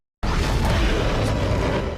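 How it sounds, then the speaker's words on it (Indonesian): A big explosion in the Soul Land 2 animation: after a brief silence, a loud, dense roaring blast erupts and sustains at full force, fading only slightly by the end. "Dengan cepat pun Yu Hou langsung membawa Wutong pergi setelah ledakan besar itu terjadi"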